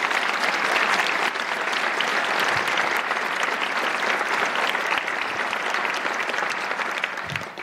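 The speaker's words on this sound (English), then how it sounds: "Please give them a round of applause." At the Brockton Symphony Orchestra's 2022 Holiday Pops Concert, the audience applauds the orchestra with thick, steady clapping that fills the whole stretch, with no talking.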